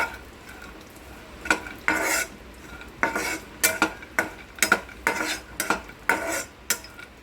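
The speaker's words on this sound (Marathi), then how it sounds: "ड्रायफ्रूट परतून आपण तुपामध्ये आपण भाजून घेत आहोत" Dry fruits roasting in ghee for a sweet banana semolina sheera, stirred with a spoon in a metal pan, giving a series of sharp scraping strokes in an uneven rhythm over a faint background sizzle, close and fairly loud.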